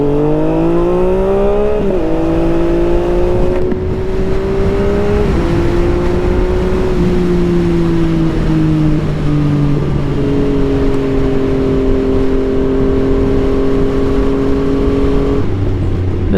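A Yamaha MT-09 motorcycle accelerates hard, its engine note climbing loud and close through several gear changes. Each shift brings a brief dip in pitch, with no speech.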